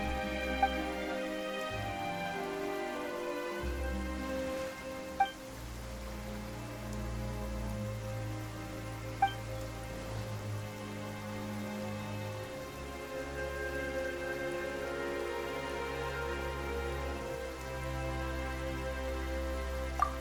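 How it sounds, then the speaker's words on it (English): Rain falls steadily in the video game Genshin Impact, a continuous wash of patter lasting the whole stretch over a sustained low musical drone, with no voices. "Why is it raining all of a sudden?"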